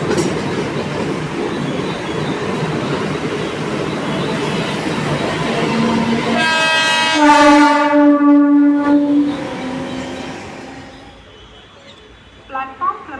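An air-conditioned EMU electric local train in Mumbai rumbles and clatters past at a station, its horn sounding loudly for a few seconds. The rumble then fades, with a station announcement and voices around it.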